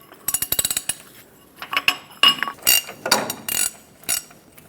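A ratchet with a 1 5/16 socket loosens a ball joint nut on a Ford Excursion, giving rapid metallic clicks followed by bursts of ratcheting and clinking, close and fairly loud.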